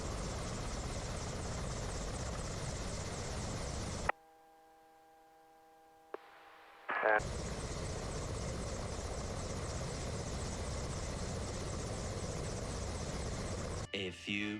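A helicopter fitted with a Heli-Torch drones with steady, loud rotor and engine noise. The sound cuts to near-silence with faint tones for about three seconds, then the rotor roar returns.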